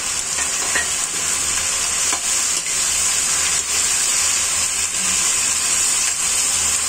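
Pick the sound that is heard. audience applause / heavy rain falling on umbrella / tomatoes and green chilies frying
tomatoes and green chilies frying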